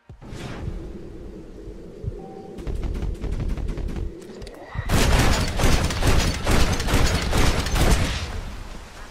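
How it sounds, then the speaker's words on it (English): Video game gun battle with an execution by firing squad: a quiet stretch of rapid, thin shots gives way to a heavy, sustained barrage of loud gunfire. "This leads to a gun battle where you are given no way out and are forced to watch John's bloody execution by firing squad."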